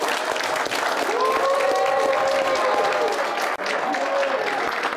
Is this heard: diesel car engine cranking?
no